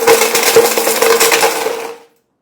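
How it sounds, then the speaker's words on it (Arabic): A loud blender motor roars and grinds as it crushes a porcelain mug, hard pieces rattling and crunching against the jar, then the whole noise cuts off abruptly. "واصعب اختبار للخلاط انه يفرم المج البورسلين"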